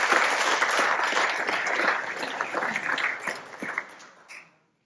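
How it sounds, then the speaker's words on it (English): Applause for local board members at a community gathering, a sustained wash of many hands clapping that gradually thins and fades out near the end. "A round of applause for our local board members"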